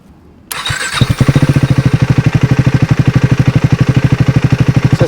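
After a brief click and silence, a 400cc adventure motorcycle engine cranks and fires, then settles into a loud, steady, throbbing idle with a rapid even beat.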